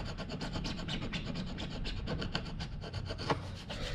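Old epoxy being scraped off a hot tub skimmer lid, a dense, continuous rasping scrape of repeated rapid strokes, close and steady with no talking.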